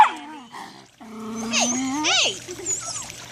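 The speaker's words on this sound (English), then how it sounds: "There's too many dogs in the way." Several dogs whimper, yelp and growl in rising, whining bursts beside a swimming pool, close and fairly loud, with people talking in the background.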